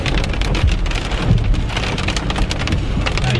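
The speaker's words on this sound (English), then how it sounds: "It is really raining hard and my bags are wet." Heavy rain pours down steadily, a dense close hiss of drops pattering on surfaces with no voices.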